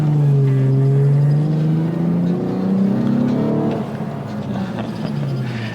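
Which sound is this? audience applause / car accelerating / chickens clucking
car accelerating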